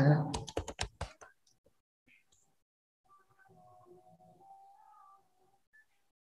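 Computer keyboard typing in a short burst of several quick keystrokes at the start, close and fairly clear, then fading out, followed by faint quiet talk in the background.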